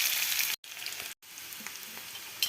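Onions and carrots frying in a pan for a carrot fry, a steady close hiss and sizzle with two brief dropouts and faint stirring scrapes near the end.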